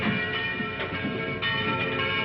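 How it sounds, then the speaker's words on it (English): A church bell rings out in a sustained, resonant peal rich in overtones, loud and continuous with overlapping strikes, no voices. "the bell that rang with no man alive to pull the rope"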